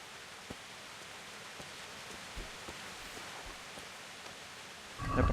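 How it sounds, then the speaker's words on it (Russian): Rain falls steadily in the medieval role-playing game Kingdom Come: Deliverance, a soft, even patter with occasional drops, followed by a louder rustle at the very end. "Дождь усиливается."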